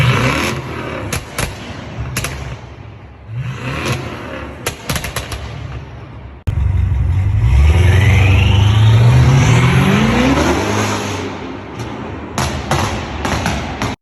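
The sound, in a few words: BMW 4.4-liter twin-turbo V8 engine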